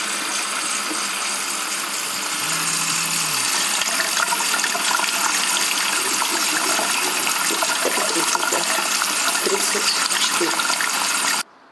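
Hot water runs from a tap in an apartment building, a loud, steady gushing stream that continues unbroken for about eleven seconds before abruptly stopping.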